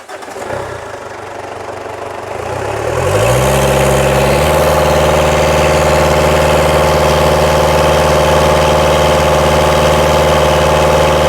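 A 2010 Ford Ranger (Mazda BT50) 3.0L diesel cranks and fires, then settles into a loud, steady idle as intake manifold cleaner is fed through, with no talking.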